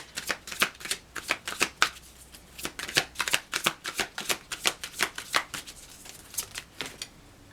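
Tarot cards being shuffled and drawn by hand, a rapid run of crisp riffling bursts and flicks repeating in an uneven rhythm, close and clear with no talking.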